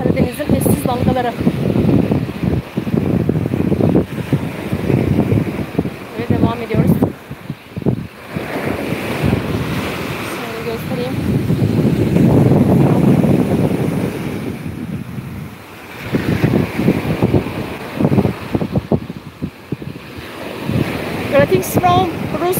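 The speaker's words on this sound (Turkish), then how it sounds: "Şu anda Karadeniz'in eşsiz dalgaları." Black Sea surf washing onto Akliman beach at Sinop, with heavy wind buffeting the microphone in loud, continuous gusts and swells, while someone talks over much of it.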